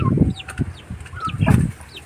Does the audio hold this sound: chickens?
yes